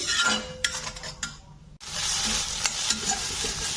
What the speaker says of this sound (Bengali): এই টমেটো পেস্টটাকে শুকিয়ে ভালো করে কষাতে হবে